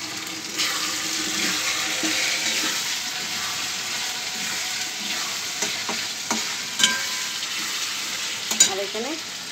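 Spices sautéing in a hot pan on a home stove, a steady close sizzle and fry with occasional scraping stirs and light clinks of a utensil against the pan.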